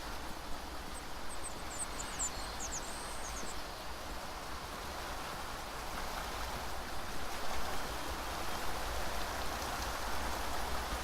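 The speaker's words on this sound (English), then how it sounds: "Hey, it's a waterfall." In the video game Beyond Eyes, a waterfall sounds as a low, constant hiss of falling water heard from a distance, with faint high chirps briefly early on.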